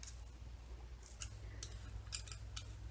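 Scissors snip through Dollar Tree craft pieces for a Halloween coffin, a handful of short, crisp cuts spaced irregularly over a low steady hum, quiet and close.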